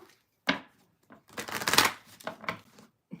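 Tarot cards are shuffled in a quick riffle, with a few taps before and after the main burst of flicking, close and fairly soft.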